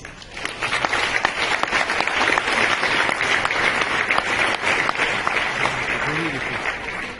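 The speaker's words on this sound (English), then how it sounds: "So big applause, please." Big, sustained applause from a convention audience in Dubai, many hands clapping in a loud steady wash, with a brief voice rising near the end.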